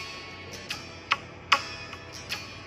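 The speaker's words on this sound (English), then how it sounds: "That click is fairly annoying." Metronome click track for backing tracks: a handful of sharp, bright ticks at uneven spacing over a faint low hum, fairly quiet and with no speech.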